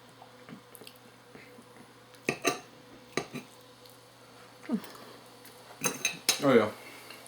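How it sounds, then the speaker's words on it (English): A fork and other cutlery clink against dishes while mac and cheese is served, with several sharp, scattered metallic taps and scrapes, some close and louder near the end, and brief voices in between. "Okay, I'm gonna grab a fork."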